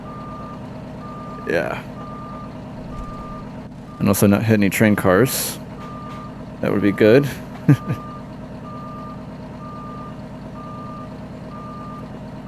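In American Truck Simulator, a semi truck backs its trailer at a stockyard, its reversing alarm beeping in a steady, evenly spaced rhythm over a low engine idle, with someone talking at intervals.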